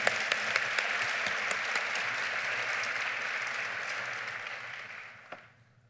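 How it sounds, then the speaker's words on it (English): An audience at a 2015 school-district community gathering gives a dense, steady round of applause that tapers off and stops near the end. "Let's give him a round of applause."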